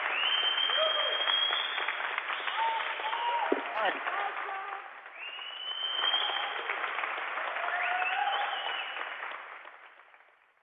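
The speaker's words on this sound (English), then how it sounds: "I hope you can hear the shouting, the applause" Crowd applause and cheering at an International Space Station downlink event with a European Space Agency astronaut, steady mid-level clapping with voices mixed in, swelling and easing over the span.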